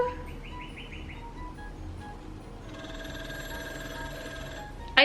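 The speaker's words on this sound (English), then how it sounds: "I think this phone just has the creepiest sound when it rings" Muted bell ringing of a vintage telephone, a soft rapid trill heard once early on, then a faint sustained ringing tone under quiet room noise, ending with a brief sharp clatter.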